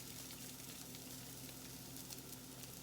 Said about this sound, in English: you just squeeze the sausage out and into the hot skillet. You'll hear it sizzle in just a second.